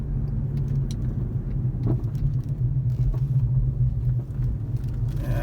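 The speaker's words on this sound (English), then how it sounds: "it sort of acts like it's turbocharged, you know, sort of laggy at the beginning and then comes on all at once as the RPMs rise" Inside an Audi A3 driving on a road, a steady low engine and road rumble fills the cabin, continuous and moderately loud without clear revving peaks.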